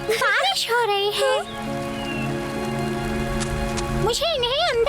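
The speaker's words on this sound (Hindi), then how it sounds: "बारिश हो रही है" Cartoon rain falls steadily in an animated Hindi bear story, a soft hiss beneath bright music, with playful voices chiming in at the start and end.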